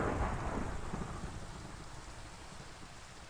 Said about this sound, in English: I'm just gonna sleep to get rid of the thunderstorm quickly.